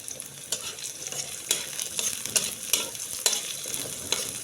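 Onions frying in a pan for pork bistek, a steady close sizzle with repeated scraping strokes from stirring at an uneven pace, moderately loud and without talk.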